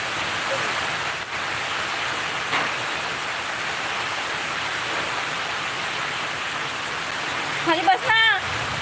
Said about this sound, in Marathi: बघा मित्रांनो किती पाऊस चालू आहे